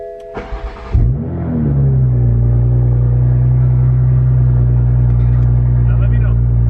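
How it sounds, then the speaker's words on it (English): A 2020 Toyota A90 Supra cranks with a short burst of starter noise, catches with a sharp flare of revs, then settles into a steady, loud idle nearby. "I start the car."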